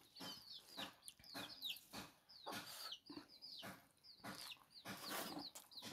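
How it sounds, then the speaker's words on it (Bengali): Chickens cluck in short, repeated bursts close by, several birds calling in an irregular rhythm over a quiet rural background, with soft mouth and eating sounds between calls. "মুরগি খুব জ্বালাচ্ছে দেখেন।"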